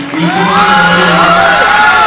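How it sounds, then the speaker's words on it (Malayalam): A large audience at a stage event with Omar and the Bad Boys team roars with loud, sustained cheering and rising whoops, a dense crowd noise filling the whole moment. "ഇപ്പൊ ചെന്ന് കൈയടികളുണ്ട്."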